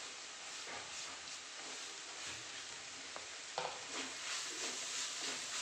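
Spice powders frying in a pan for an egg kurma make a soft, continuous hiss and sizzle, faint and close, with a few light scrapes of stirring.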